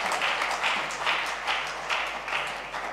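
Stage audience clapping at a charity awards night for a woman called up to the stage, a steady, dense crowd applause with faint swells, close and continuous with no talking over it.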